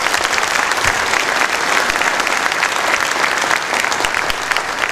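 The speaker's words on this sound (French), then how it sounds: "Vous pouvez les applaudir." An audience at a mayor's New Year greetings ceremony in Ceyreste, France, applauds local police and fire officials with loud, continuous clapping filling the room, steady and unbroken from start to finish.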